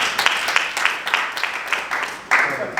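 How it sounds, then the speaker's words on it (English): Applause from an event audience at a skin care company launch in Dubai greets a man called onto the stage, a brief burst of scattered, uneven claps that swell again near the end. "Let's give Keynote a round of applause."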